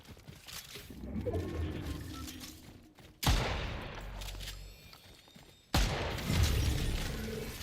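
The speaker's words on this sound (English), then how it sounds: "Oh, somebody else shooting." Video game gunfire in sharp bursts, a sudden loud volley, a lull, then another burst, mostly without talk.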